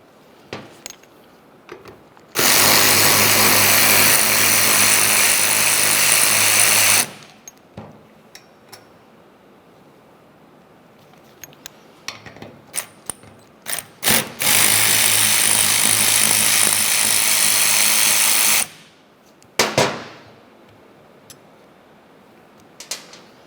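Power tool whirring in two sustained bursts of several seconds each, close and loud, backing out T30 screws from the steering column of a 2001-2005 Ford Explorer Sport Trac, with clinks and handling noises in between.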